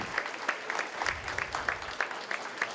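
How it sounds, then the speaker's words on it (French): Sparse, quiet clapping from a small audience at a volunteer recognition gala in Grande-Rivière, individual claps scattered irregularly and fairly distant. "je voudrais qu'on prenne le temps de faire une bonne main d'applaudissements"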